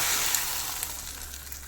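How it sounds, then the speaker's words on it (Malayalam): A bright, fine crackling sizzle of mustard and cumin seeds in hot oil, continuous and close, with tiny pops scattered through it. "കടുവും ജീരകമൊക്കെ നല്ലപോലെ മൂത്തിട്ടുണ്ട്"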